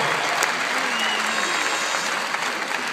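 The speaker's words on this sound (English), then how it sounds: "That is closer to the rousing applause that product deserves." An indoor audience at a product presentation applauds in a steady, dense wash of clapping that holds the whole time, loud and unbroken.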